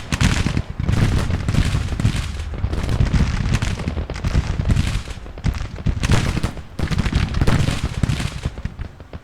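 Dense gunfire and artillery from a Civil War battle in a strategy video game, continuous overlapping musket volleys and booming blasts, loud and unbroken throughout.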